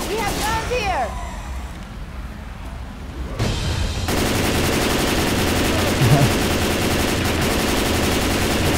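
Sustained automatic assault rifle fire in Left 4 Dead 2 during the Cold Stream campaign, a dense continuous rattle that starts partway through and runs loud to the end, with a voice speaking earlier.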